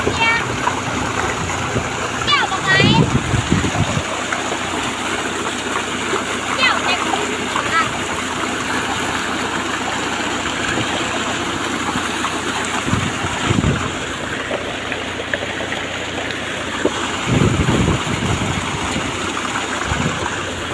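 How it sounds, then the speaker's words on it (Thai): Steady rushing of water gushing in a stream with occasional splashes, fairly close and continuous throughout. "น้ำไหลเป็นสายเลย"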